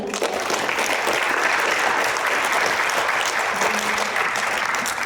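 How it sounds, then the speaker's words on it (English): A school assembly audience applauds a sixth-grade recognition, steady dense clapping filling the room, loud and continuous from start to finish with no talk over it. "let's give them all a quick round of applause"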